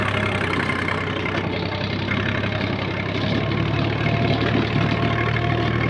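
A tractor engine runs at a steady idle with an 11-tine tiller or cultivator hitched and both levers lowered. It is a continuous, loud low drone that holds unchanged throughout, with no talking.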